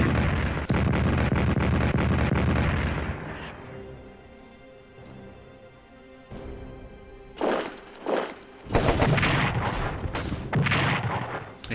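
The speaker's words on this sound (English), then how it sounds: "Got some French artillery bombarding us." French artillery bombardment in the Strategic Command WW1 strategy game, a series of loud booming blasts and crashes, dense at first, then a quieter stretch before several more heavy bursts.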